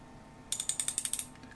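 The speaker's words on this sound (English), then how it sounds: "The socket head itself, it's got Kamasa tools printed on it. It works quite nicely. Nice, firm ratcheting." A Kamasa socket ratchet wrench clicks about ten times in a quick, even run, crisp and close, alone after a quiet start.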